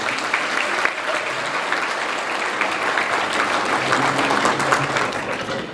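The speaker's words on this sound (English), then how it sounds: "Please, everybody, give them a round of applause for their service." A banquet crowd at a chamber of commerce dinner breaks into loud, sustained applause, a dense close wall of clapping that holds steady throughout.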